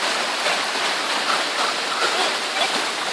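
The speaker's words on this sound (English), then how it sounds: "we're trying to block the waterfall" Rincon Waterfall roars as a steady, dense hiss of rushing water, even and close throughout, with no voices or other sounds cutting through.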